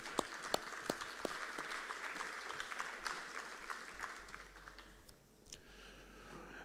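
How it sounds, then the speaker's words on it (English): Scattered applause from the audience at a county fair queen pageant greets the judges, distinct claps over a quiet room with no one speaking. "Let's give them a round of applause."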